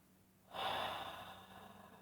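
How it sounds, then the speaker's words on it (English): A single sharp inhale through the nose, close and fairly loud, trailing off into quiet breathing. "Sorry for the sniffing."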